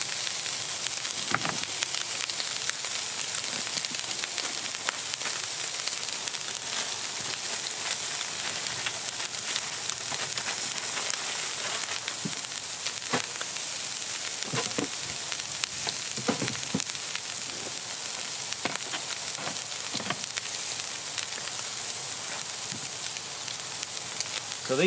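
Asparagus fries in butter on a camping gas stove outdoors, giving a continuous soft crackling sizzle with scattered sharper pops across the whole stretch, fairly quiet and unbroken.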